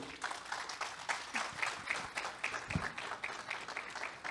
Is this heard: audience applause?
yes